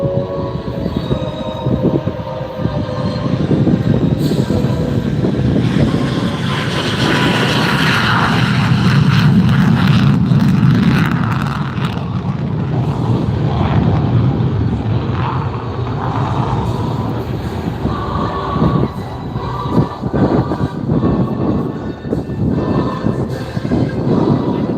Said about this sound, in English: Cleared for takeoff. Here he goes. Watch for that afterburner.